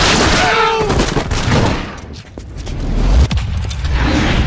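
Gunfire from the PlayStation 3 game The Darkness, a dense burst of shots and booms loud in the foreground, with a shouted voice briefly over the action.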